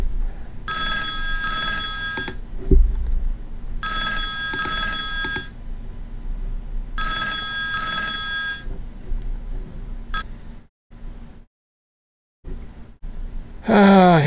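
Telephone rings out three times in bursts of about two seconds each, with a steady low hum and room noise underneath and a brief silence near the end.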